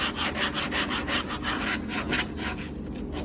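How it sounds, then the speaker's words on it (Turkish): Steady back-and-forth rasping of 80-grit sandpaper scrubbing by hand over a BMW 1 Series dashboard under repair, in quick rhythmic strokes about three per second, close and continuous with no talking. "Şöyle detay kısımlarına bu şekilde zımpara yapıyoruz."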